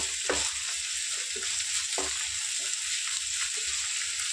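Ginger paste and curry leaves fry in hot oil for a prawn curry, giving a steady close sizzle with a few soft stirring knocks throughout and no talking.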